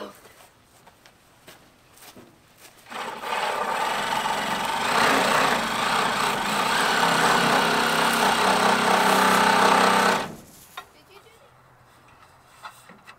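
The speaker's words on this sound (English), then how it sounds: "give me my sawzall" A reciprocating saw cuts through material during old barn roof restoration work. It makes a loud, steady, rough buzzing that starts abruptly, runs for about seven seconds and cuts off sharply, with quieter background noise before and after.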